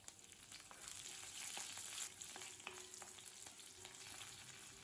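Green chillies, crushed ginger and curry leaves sizzle and fry in hot oil in a pan for coconut rice tempering, a steady close crackling hiss with small pops throughout and no talking.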